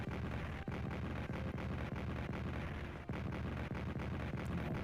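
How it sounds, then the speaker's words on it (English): British artillery fire in the Strategic Command World War 1 strategy game: a dense, continuous rumble of booming blasts with sharp thuds at regular intervals, loud and alone without talk. "A bit of British artillery attacking the Ottomans as well."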